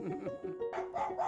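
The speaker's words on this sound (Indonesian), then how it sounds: "Keesokan paginya, Kenji terbangun karena suara gonggongan anjing" Dog barking in a short series of yips and woofs, fairly close, over a faint underlying voice or music bed.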